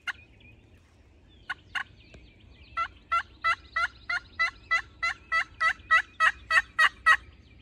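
Wild turkeys gobble in West Virginia hardwoods on opening day of turkey season, a series of about fifteen rhythmic clucking gobbles rising in loudness after a few isolated calls, fairly distant, over quiet outdoor ambience.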